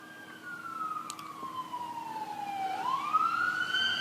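A single police siren wails in the distance, its pitch sliding slowly down and then sweeping back up, alone against a quiet background.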